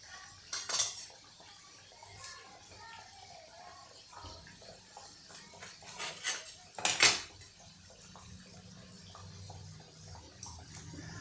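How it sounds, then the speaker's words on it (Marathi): A knife cuts through a hot homemade green pea samosa, with a few sharp clinks of metal against a plate and light clatter amid quiet kitchen background; no one speaks. "एका समोशाला चाकूने कापून मी दाखवतो"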